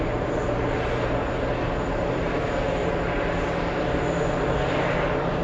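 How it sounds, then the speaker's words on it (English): A four-engine Lufthansa quadjet taking off gives a loud, sustained, dense engine roar that stays constant throughout, with no voices. "it's taking off. Very nice. The Quadjet Lufthansa taking the spotlight."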